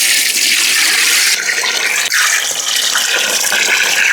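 Water pours steadily and loudly into a cooking pot of goat legs for paya, a continuous splashing rush that shifts in pitch partway through as the pot fills.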